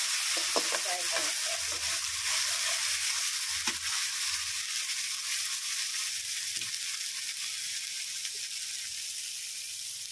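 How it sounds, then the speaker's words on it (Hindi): Spinach paste frying in a pan for homemade palak paneer, giving a steady broad sizzle with a few scraping stirs early on and no talk. "पालक का पेस्ट को फ्राई करेंगे"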